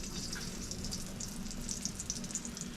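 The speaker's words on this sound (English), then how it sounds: "Listen to that sizzle." Steady, continuous sizzling of breaded steak frying in hot oil for chicken fried steak, with crackling pops scattered across a dense hiss, close and fairly loud.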